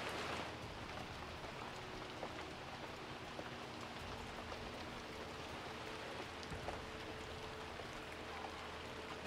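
Steady rain falls in a continuous, even hiss of drops, quiet and diffuse, with no voices present.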